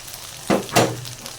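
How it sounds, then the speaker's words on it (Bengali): Chili powder and spice paste are stirred in a hot pan, two short bursts of sizzling close by against a quiet background, with no talking. "তো এখন সুন্দর করে কষাই নিই মশলাটা"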